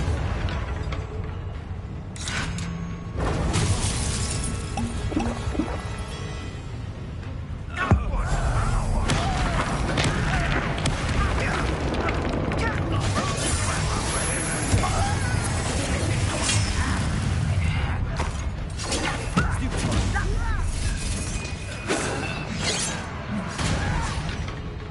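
The Bombarda spell from Hogwarts Legacy erupts in booming, crashing blasts with shattering debris and whooshes, loud and continuous, with a voice calling out briefly amid the combat noise.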